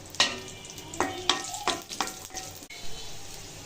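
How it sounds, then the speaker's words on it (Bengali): Raisins and nuts frying in ghee in a pan, with soft sizzling under repeated clinks and scrapes of a spoon stirring against the metal, close up and without voices. "এই তো আমার কিশমিশ বাদাম ভাজা হয়ে গেছে, ঘি দিয়ে এতে ভেজে নিয়েছি।"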